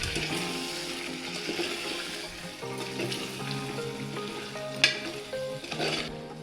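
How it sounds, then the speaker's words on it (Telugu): Garam masala, pepper and cumin sizzle in a pan on medium flame for chicken haleem, making a steady low frying hiss with a few soft stirring scrapes and one sharp clink near the end. "ఇది మీడియం ఫ్లేమ్లో పెట్టుకొని ఒకసారి మంచిగా కలుపుకుందాం"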